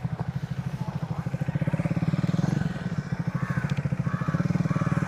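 A Royal Enfield Himalayan motorcycle rides along, its single-cylinder engine thumping in a fast, even rhythm. The sound stays moderately quiet and steady, with a few faint background noises.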